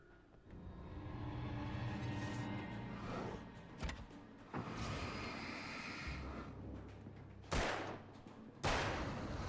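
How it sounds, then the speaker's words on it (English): Explosions and bursts of gunfire in the video game Alan Wake, several sharp loud blasts separated by rumbling gaps, with no talking over them. "There was an explosion there."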